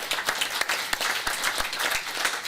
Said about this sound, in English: the reason we give so much applause to the four of you